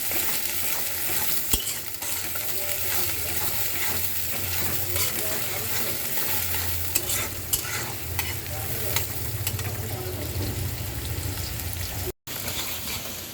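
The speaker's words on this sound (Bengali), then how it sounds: "পেঁয়াজটা আমি 1 মিনিট ভেজে নিয়েছি।" Onions fry in a pan for okra bhaji, a steady close sizzle running the whole time with occasional stirring clicks and no voices.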